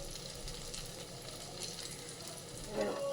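Batter fries quietly in a pan as breakfast cooks, a faint, steady sizzle with soft scraping as it is spread, and a brief clink near the end.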